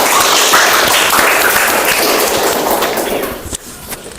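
A classroom audience at a teacher-training session bursts into loud, dense applause close by, sustained for several seconds before thinning out and stopping near the end.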